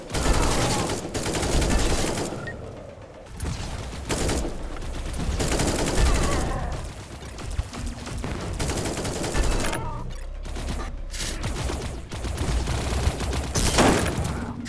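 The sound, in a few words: gunfire from a gun in Echo Point Nova video game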